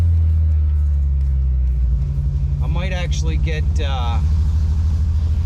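A BMW 733i engine hums in a steady low rumble while driving, running smoothly throughout, with a person speaking briefly over it partway through.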